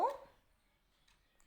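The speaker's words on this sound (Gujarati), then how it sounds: "ડોગ" A single dog bark or yelp bursts out at the start and fades quickly, leaving near silence for the rest of the short span.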